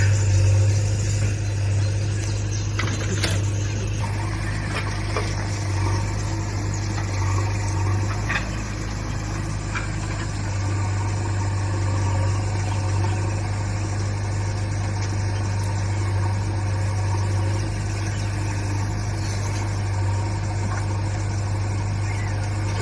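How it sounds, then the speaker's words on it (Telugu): A new tractor's diesel engine idles steadily nearby on a summer morning, a low continuous rumble with vibration and no speech over it. "ఇది నా కొత్త ట్రాక్టర్, ఇదే."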